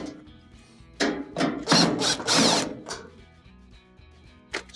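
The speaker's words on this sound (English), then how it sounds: "to remove the top, you will have to remove these 3 screws here. All of them can be taken off with the Phillips bit" A screwdriver with a Phillips bit backing out the top screws of a GE dryer, giving a close, loud mechanical whirring and ratcheting in bursts of a second or so, with quieter clicks between them.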